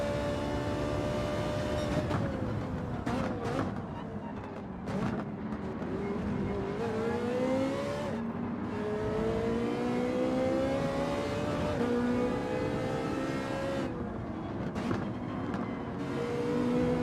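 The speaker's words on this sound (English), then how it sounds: "Let's see the acceleration on that Subaru now" Subaru in Gran Turismo 7 accelerating hard, its engine note rising over and over through gear changes in a continuous loud drone, with other race cars close by.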